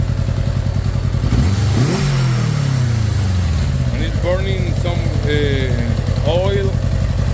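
A 1987 Yamaha Radian motorcycle engine runs steadily nearby, with a throttle blip rising and falling early on. Someone talks over the steady idle.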